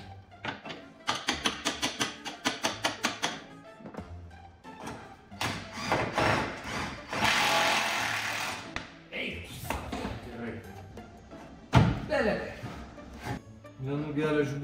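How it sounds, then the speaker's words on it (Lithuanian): A hammer strikes metal parts on a Mk2 Volkswagen Golf, opening with a quick run of sharp taps, followed by scattered knocks and clunks mixed with someone talking. "Reikia plaktuku patikėti"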